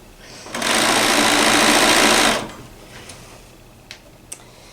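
A sewing machine runs a seam through fabric at a tight 2.5 stitch length, one loud, steady, close whir of about two seconds that stops abruptly, followed by a few faint clicks.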